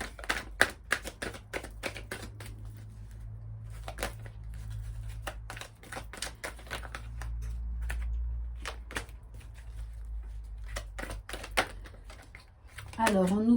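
Tarot cards from an Amethyst Love deck are shuffled and drawn, giving a run of sharp, dry card snaps and flicks, close and irregular, with quieter shuffling between and a brief voice at the end.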